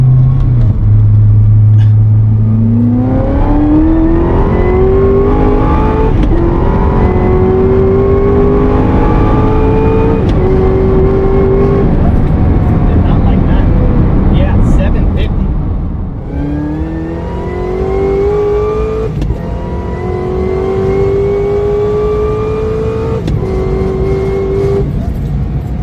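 A 2019 manual Ford Mustang with an ESS supercharger accelerating hard, loud engine pulling through rising revs in long sweeps, a pause for a gear change, then another climbing pull, heard from inside over road roar.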